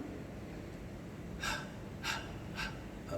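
A voice imitates heavy panting, giving three short, breathy gasps spaced about half a second apart over faint background noise.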